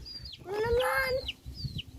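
A farmyard chicken clucks nearby, a short run of rising, throaty clucks followed by fainter chirps, with soft background noise.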